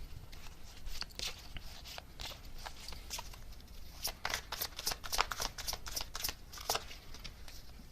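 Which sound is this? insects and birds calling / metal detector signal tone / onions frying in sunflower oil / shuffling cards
shuffling cards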